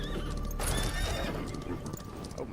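A horse in a video game whinnies when called, a loud close neigh over galloping clip-clop hooves, with game sound effects layered around it.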